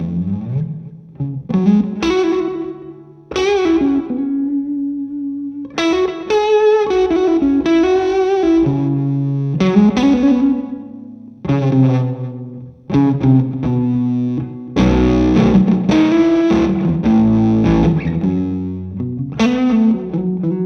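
Electric guitar through a Morgan MVP23 amp with a delay effect, slight crunch, a steady stream of notes and chords, each note trailing off into soft repeating echoes.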